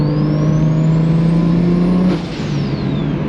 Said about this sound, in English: I never get tired of driving the 1 Series.